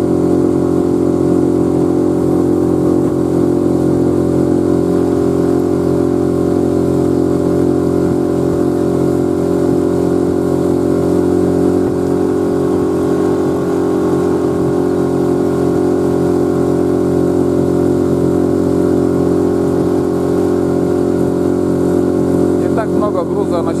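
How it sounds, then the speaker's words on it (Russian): A heavily loaded boat's Suzuki 6 outboard motor drones steadily with a low, even hum throughout, close and loud, with no clear changes in pitch. "Много груза, но все равно как-то не так быстро едет мотор"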